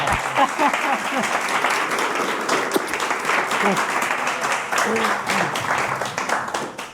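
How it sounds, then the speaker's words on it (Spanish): A crowd at a public event in General Belgrano applauds steadily for the speaker, with scattered voices and calls rising through the dense clapping. "Le pedimos un fuerte aplauso para Dora."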